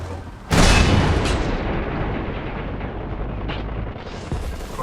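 T-44 tank machine guns fire on a lightly armored Aubl in War Thunder, a sudden loud burst followed by a dense sustained rattle of gunfire and booming impacts, with a few sharper cracks near the end.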